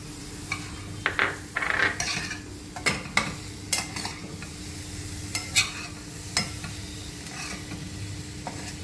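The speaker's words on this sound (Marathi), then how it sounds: "आता हे जरा तेलात परतवून घेते आहे यामध्ये टोमॅटो घालते" Tomatoes sauté in oil in a pan under a constant frying sizzle, with a spoon stirring and scraping in irregular clinks and scrapes close by, and no talking.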